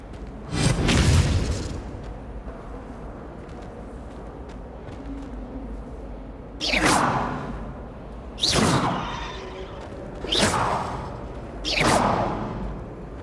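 Expelliarmus spells cast in Hogwarts Legacy on Nintendo Switch: a loud boom at the start, then after a quiet hum four whooshing bursts follow at roughly two-second intervals, each a swelling rush with a thudding impact.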